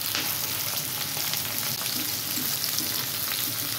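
Onion and green chilies fry in a pan for a dry potato and cauliflower dish, giving a steady close sizzle with a few faint stirring scrapes.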